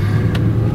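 A 1987 Cadillac Eldorado V8 cruises with a steady, smooth low engine hum under continuous road noise, quiet and even for the whole moment.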